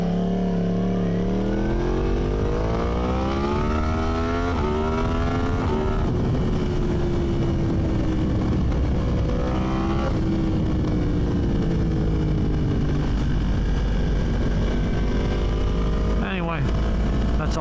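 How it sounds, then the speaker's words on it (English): Wind roars steadily past a rider on a moving motorcycle, a loud, constant rush mixed with engine tone that rises and falls with speed, and someone talks over it. "All you hear is the wind noise."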